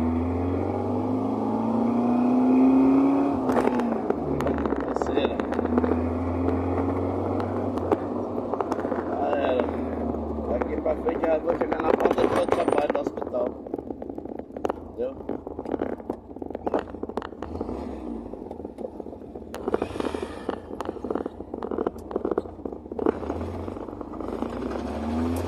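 A ratlook VW Gol with a CHT 1.6 engine revs and accelerates from inside the car, a rough, steady engine drone rising through gears, with a person speaking over it.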